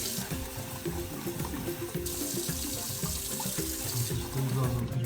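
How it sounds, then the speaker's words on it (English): Running kitchen sink tap water pouring steadily while food is rinsed underneath for a chicken noodle soup, a continuous close splashing hiss with slight shifts as the stream hits the items. "So I'm gonna rinse these off to take some of the starch out of them."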